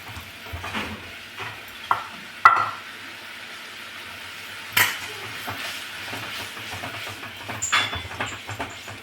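Roasted gram flour (besan) is stirred little by little into vegetables cooking in a pan for besan shak: soft scraping stirs with a few sharp spoon clinks against the pan over a faint sizzle, and no one talks.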